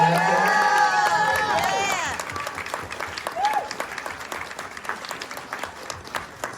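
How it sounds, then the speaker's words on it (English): Film festival audience bursts into applause with whoops and cheers, the cheering fading after a couple of seconds while clapping continues with scattered shouts. "Everybody give her a round of applause."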